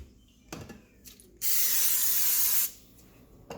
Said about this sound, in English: I'm going to spray some cooking spray.